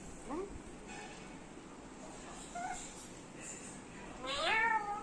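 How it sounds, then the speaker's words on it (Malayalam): Cat meows, a few short faint calls scattered through the clip and a louder rising, wavering meow near the end, over a low steady background hiss. "മിയോ മിയോ പൂച്ച"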